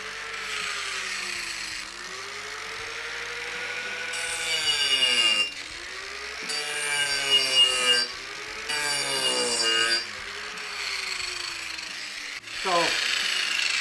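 A handheld angle grinder used as a body-shaping tool, switched on and whining steadily with the pitch rising and falling as it spins up and cuts out in several bursts, heard alone and close.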